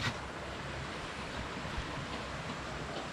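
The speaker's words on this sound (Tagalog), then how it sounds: "Yung ilog guys. Ito na yung ilog." River water rushing steadily close by, a dense continuous broadband wash with gusty wind noise over the microphone and no voices.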